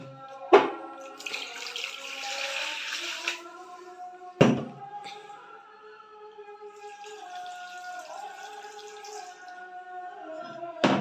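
Water is poured into a container for curing green olives, with a splashing pour sandwiched between sharp knocks and clatters, followed by a quieter trickle settling into the vessel.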